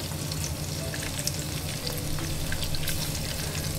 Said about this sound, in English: that's going on in our frying pan as well